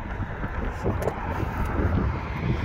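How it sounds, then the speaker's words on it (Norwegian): Steady, broad wind rumble buffeting the microphone outdoors, continuous and fairly loud throughout with no voices. "Litt eh, vind."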